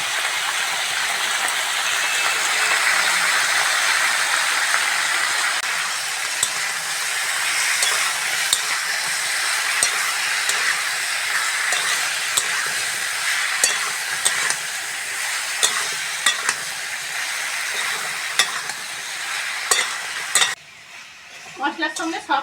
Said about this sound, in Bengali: মশলার সঙ্গে সব সবজিগুলো কষে নিয়েছি